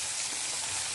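Ridge gourd pieces dropped into hot oil with garlic and curry leaves, giving a steady, bright, close sizzle with no pauses.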